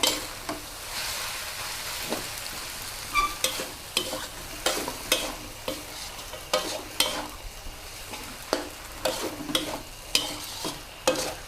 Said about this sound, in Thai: เร่งไฟนะคะ ผัดค่ะ